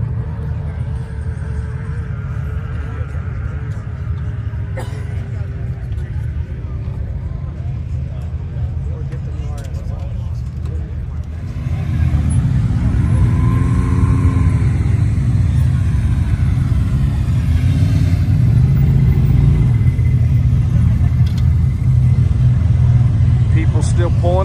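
A UTV engine rumbles steadily while driving over the sand at Sand Hollow, getting louder and revving harder about halfway through, with people talking over the drone.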